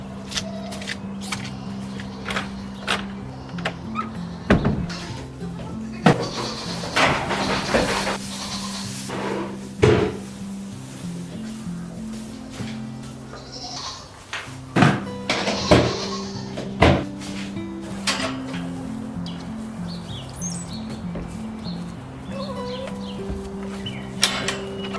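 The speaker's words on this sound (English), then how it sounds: "So this door won't close properly because when the frost all melted, it shifted over and now the wood is in front of the door so it won't go in." A frost-shifted wooden door is pushed against wood that blocks it from closing, producing a series of irregular knocks, thuds and scraping bumps across the clip, loud and close, with no speech.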